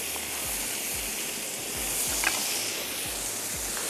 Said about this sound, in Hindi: इसको थोड़ा सा फ्राई होने देते हैं